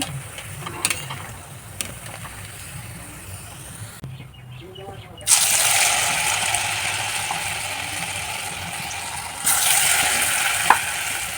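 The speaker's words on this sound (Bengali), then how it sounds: "একদম লাল লাল করে পেঁয়াজি ভাজছি" Steady hiss of onion fritters deep frying in oil, with scattered clinks and scrapes; the sizzle briefly cuts out, then returns louder and fuller, holding to the end.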